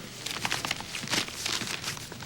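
Paper rustling and crinkling in short, uneven bursts, close and fairly quiet, like pages being handled and folded.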